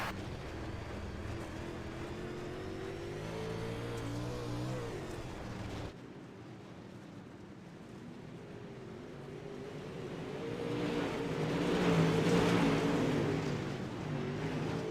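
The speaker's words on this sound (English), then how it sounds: "Jumping on board of Smoke's car here" Onboard sound from a dirt race car in a Dirtcar race: a steady, loud engine roar with shifting pitch as the car works through the corners, rising to a heavier surge near the end.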